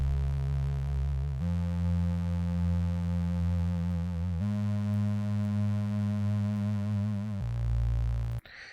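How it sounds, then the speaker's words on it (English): Long, loud synth tones sustain through a series of stepped pitch changes, the tail of each note gently wobbled by an LFO, ending with a sudden cutoff. "It's wobbling that tail end of the note, and that's done using an LFO"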